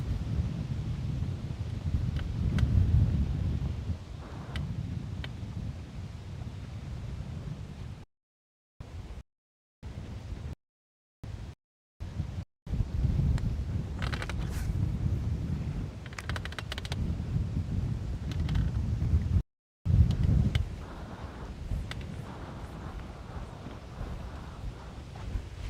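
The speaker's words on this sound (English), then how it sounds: "The wind is almost gross." Wind gusting across Lake Guntersville, a low, blustery roar buffeting the microphone in uneven waves, cut by several brief silent gaps.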